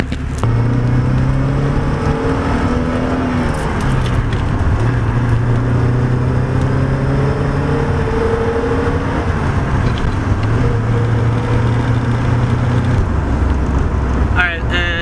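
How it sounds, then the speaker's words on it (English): A Porsche 944 accelerates hard through its gears, the engine note climbing and then dropping at each shift, loud and close from inside the car, over a steady road roar. "that was a run through the gears for you guys"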